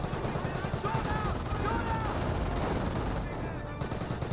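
Company of Heroes 1 battle: steady rattling gunfire and distant bursts under a constant din of game noise, continuous throughout.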